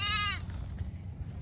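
Lamb bleating in spring sunshine on a farm, one short wavering bleat up close, followed by low rustling and handling noise.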